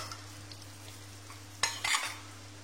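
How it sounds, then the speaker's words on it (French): Butter melts in a pan over the heat for a béchamel with a faint sizzle under a low hum, then a brief clatter of utensil against pan near the end. "j'ai fait du beurre que j'ai mis à dissoudre sur le feu"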